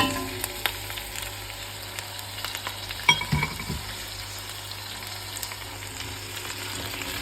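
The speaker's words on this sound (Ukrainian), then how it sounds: "Перемішали і смажимо приблизно хвилин з 10 на вогні менше середнього." Potatoes and carrots sizzle steadily in hot oil over medium-low heat, a constant crackling hiss with a brief clatter of stirring partway through.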